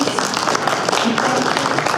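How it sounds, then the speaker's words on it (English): A conference audience claps for a panel on Florida corridor improvements, steady dense applause filling the room for the whole moment. "again, a round of applause for our panel"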